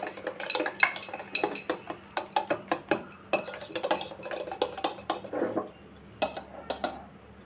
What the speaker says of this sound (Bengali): আবারও একবার ভালো করে নেড়ে নেব।